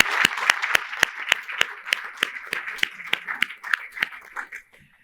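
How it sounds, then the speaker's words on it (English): A small audience at a City of Chicago public event gives a round of applause, with sparse, distinct claps gradually thinning out and stopping before the end. "Please give him a round of applause."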